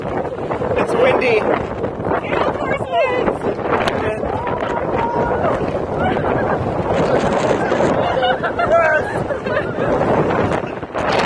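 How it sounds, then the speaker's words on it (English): Strong wind buffeting a microphone outdoors in Iceland, a continuous loud roaring rumble with gusts throughout, with indistinct voices mixed in. "it's windy."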